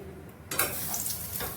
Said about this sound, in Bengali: একটু গুলিয়ে নিলাম তেলটা চারিপাশে